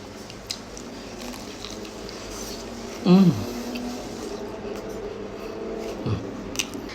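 A crunchy bite into fried zucchini flowers stuffed with tuna and mozzarella gives one brief, crisp crunch midway, with a softer chewing sound later, all over quiet background noise.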